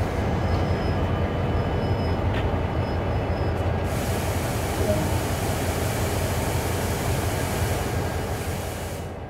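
A heavy CSX freight train in Train Sim World rumbling steadily to a stop with a continuous roar and hiss, brief high squeals early on, the noise slowly easing toward the end.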